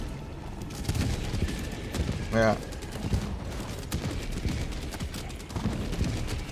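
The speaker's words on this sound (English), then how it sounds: "Got a lot of explosions there." Explosions and gunfire-like bursts in a video game being played on an RTX 5060 graphics card, with a sharp cracking burst around the middle over a constant game din, and a voice speaking briefly.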